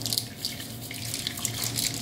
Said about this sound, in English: So I'm gonna pour this over this, okay.